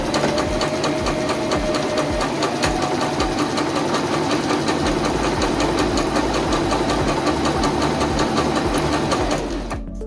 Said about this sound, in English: Sew stitch B to complete the left side of the buttonhole.